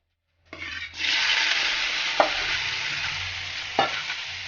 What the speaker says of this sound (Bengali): শুকি মাছটা ভাজা হচ্ছে